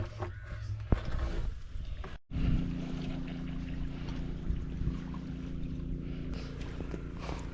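A boat moves through paddy field water with a steady low drone and a wash of water noise. A brief cutout breaks it early on, and the moderate sound continues unbroken afterward.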